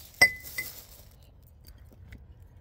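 A Loch Ness Monster pint glass is handled, giving one sharp bright clink followed by a fainter second tap, then quiet handling noise.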